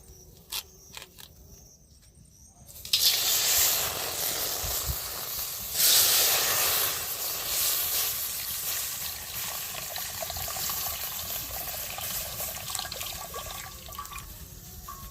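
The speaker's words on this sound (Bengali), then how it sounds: "এবার কড়াতে আমি দুধগুলো প্যাকেট কেটে ঢেলে নেব।" Milk from two cut 500 ml packets pours into a kadai, a steady hissing, splashing stream that starts after a brief quiet and runs on for about twelve seconds, swelling midway and easing toward the end.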